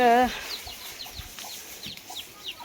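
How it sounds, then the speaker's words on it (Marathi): Small chicken chicks cheep in quick, high, repeated peeps, steady and fairly close, over a soft background hum. "कोंबडीची पिल्लं चिवचिव करतात"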